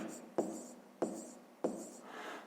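Three short, even scratches of a pen writing a decimal fraction by hand on paper, faint and close, spaced about half a second apart with soft rubbing between strokes.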